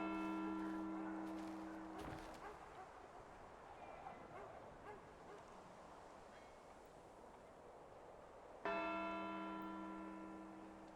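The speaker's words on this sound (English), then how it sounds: "that bell is ringing right now as part of the game" In Assassin's Creed III, the townhouse clock tower bell rings in two strikes with long ringing decay, the first fading out before a second loud toll, with quieter game ambience between them.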